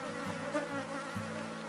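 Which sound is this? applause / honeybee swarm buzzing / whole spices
honeybee swarm buzzing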